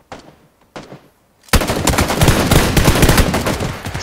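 Gunfire in PUBG: two sharp separate shots ring out, then a loud, sustained rapid burst of automatic fire continues without pause.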